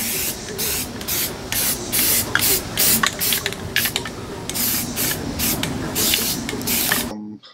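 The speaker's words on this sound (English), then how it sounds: "Getting an action shot of Greg spray painting" Aerosol can spray painting on a Halloween prop project, close hissing bursts in irregular short and longer sprays with brief gaps, no talk.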